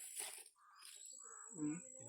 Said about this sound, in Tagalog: May uwak.